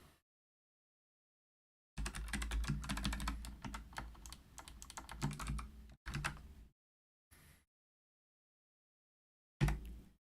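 Bursts of rapid typing on a computer keyboard, a long flurry of keystrokes followed by shorter clusters and a few isolated presses separated by silence.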